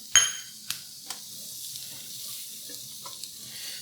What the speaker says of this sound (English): Just gonna saute this off for just a second to get that rawness out of that